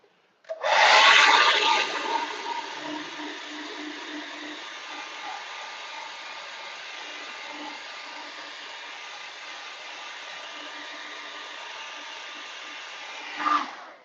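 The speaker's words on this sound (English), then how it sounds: "we're going to have to hit that with the hair dryer real quick" A handheld hair dryer blows on wet paint of a canvas being painted, its loud steady whoosh switching on sharply, holding evenly for about twelve seconds close by, then clicking off.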